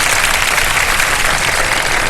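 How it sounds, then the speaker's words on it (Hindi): A studio audience claps steadily and loudly throughout at a live television quiz show, a dense continuous applause with no break. "मजा नहीं आया तालियों में, थोड़ी सी और होनी"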